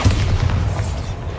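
A Bombarda spell explosion in the video game Hogwarts Legacy lands as a single deep, rumbling boom that rolls on for about a second.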